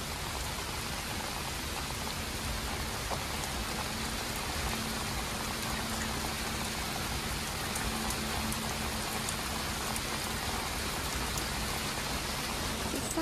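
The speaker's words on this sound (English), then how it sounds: "This rain came out of nowhere." A sudden rain shower falls steadily around a sailboat, a dense, even hiss of drops on surfaces that holds at one level throughout, with no voices.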